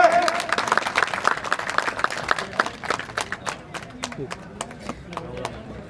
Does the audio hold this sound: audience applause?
yes